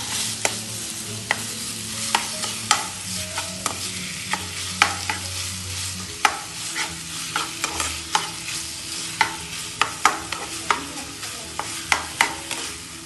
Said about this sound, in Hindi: कलर इसका चेंज होने तक भूनेंगे मसाले।